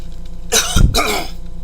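One loud, harsh cough in two quick bursts, close to the microphone, over a low steady background hum.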